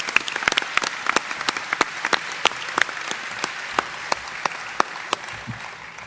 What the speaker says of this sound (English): Can you all please give them a round of applause?